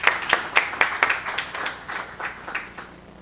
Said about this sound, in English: if we can give Dave a round of applause as he comes back up to the stage